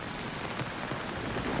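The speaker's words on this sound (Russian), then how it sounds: "Вот так дождь. Ужасно!" Heavy rain pours steadily during a thunderstorm, a dense continuous hiss of drops on surfaces close around, with no voices.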